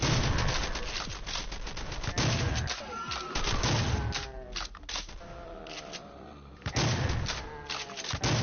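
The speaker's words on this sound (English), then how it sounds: "the chain gun in this mod it eats up ammo pretty quick" Rapid bursts from a chain gun in a Doom mod, fast rattling volleys that stop and restart several times alongside other game noises, loud and close, with no talk.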